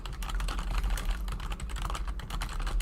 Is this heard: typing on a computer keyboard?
yes